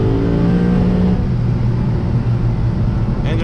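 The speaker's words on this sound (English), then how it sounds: "Get some exhaust noises in there." Lexus RC F with a V8 engine drives a mountain road, giving a steady loud engine drone and exhaust rumble with shifting pitch under road noise, heard from inside the car with the window down.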